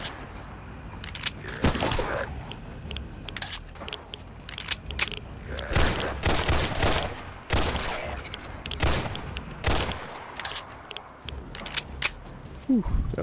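Gunfire in Fallout 4 cracks in rapid bursts and single shots against a legendary zombie, sharp reports spaced irregularly over a low game background.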